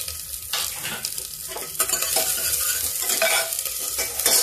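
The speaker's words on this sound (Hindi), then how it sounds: "अभी प्याज को भून लेते हैं, हल्का गुलाबी, ज्यादा जलाना नहीं है मुझे।" Chopped onion, ginger and green chili frying in a little oil in a pan, a steady close sizzle with stirring scrapes and light utensil contact throughout.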